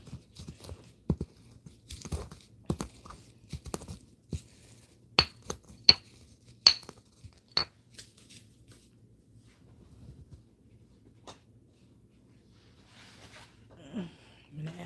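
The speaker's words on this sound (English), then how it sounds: "now it's grinding better with that, without that big bulky piece in it" An incense mix being ground, heard as a string of sharp, close crunching clicks and scrapes, irregular and fairly quiet, thinning out toward the end.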